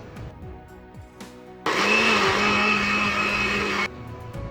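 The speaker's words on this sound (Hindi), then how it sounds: "तो अब इस दूध को हम इस मैंगो प्यूरी के साथ ही मिलाकर अच्छे से ब्लेंड कर लेंगे" A kitchen blender whirs loudly as it blends mango puree with chilled milk into an ice cream batter. The burst runs for about two seconds between quieter clattering sounds before and after.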